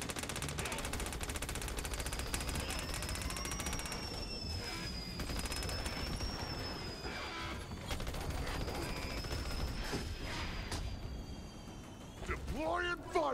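Dense, continuous automatic gunfire firing fire bullets in the video game Battleborn, a loud unbroken stream of rapid shots layered with mechanical clatter and a faint whine, ending with a short tapering burst.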